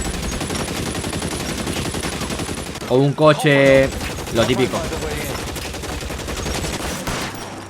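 Gunfire in the video game L.A. Noire, a busy stretch of shots and game action running steadily under continuous talk, with a louder burst partway through.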